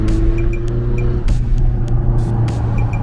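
A BMW X6M with a stage 2 tune, around 750 hp, roars under hard acceleration, loud and close. The deep engine drone holds steady while sharp pops and crackles break through it at intervals.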